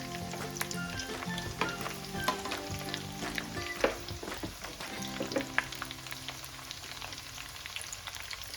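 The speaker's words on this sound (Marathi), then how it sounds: "आणि मस्त आता आपण अशी तेलात परतून घ्यायची भेंडी।" Stuffed okra (bharli bhendi) sautéing in hot oil in a home kitchen, giving a steady crackling sizzle with occasional louder pops and stirring clinks throughout, with no talking.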